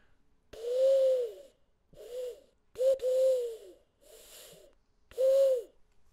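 A voice imitating a cooing pigeon, five soft hooting coos in an uneven rhythm, close and fairly quiet.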